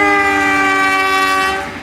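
The Kahuripan passenger train, running from Jakarta toward Bandung, sounds its horn in one loud, sustained blast close by as it passes at speed, with the roar of the cars underneath.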